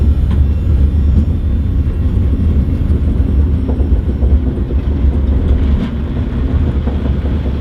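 A Daihatsu Mira kei car drift car fitted with PVC pipe rear tyres drives along, giving a loud, continuous low engine and road rumble from inside the cabin, with no talking.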